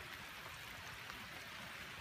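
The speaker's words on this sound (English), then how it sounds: "It's been raining pretty good for the last hour and a half." Steady rain falling outdoors beside leaf-clogged drainage ditches, a dense, even hiss of drops with a trickling, running-water quality, continuous and fairly quiet throughout with no voices.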